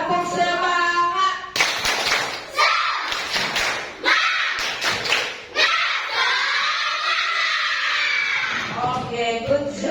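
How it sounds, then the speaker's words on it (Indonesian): A third-grade class claps out a rhythmic spirit-clap routine in a classroom, with sharp bursts of claps mixed with children's voices calling along. The claps are close and loud, broken by short pauses. "Kurang semangatnya. Tepuk semangat."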